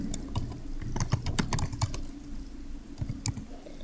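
Close computer keyboard typing comes in quick bursts of clicking keystrokes, then a short pause and a few more taps, with no talking.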